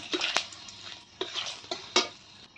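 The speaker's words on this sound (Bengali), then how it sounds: "পাঁচফোড়ন অল্প করে দিয়ে দিলাম একটা তেজপাতা।" Dried red chilli, panch phoron and a bay leaf fry in hot oil for a taro curry, a soft steady sizzle broken by several close clinks and scrapes of a spatula on the pan.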